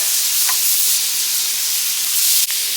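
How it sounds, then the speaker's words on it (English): Shrimp sizzling on a Blackstone griddle gives off a steady, loud, bright hiss that holds without a break, with one short scrape or tap near the end. "You just want to cook it for 2 or 3 minutes on the Blackstone itself."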